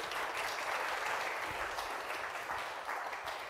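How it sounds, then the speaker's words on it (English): A room full of people applauds a speaker at a Cape Town climate change event, steady even clapping at moderate level that carries on without any voices. "Another round of applause, please"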